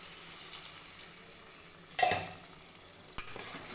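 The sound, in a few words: stirring cumin powder into frying fish masala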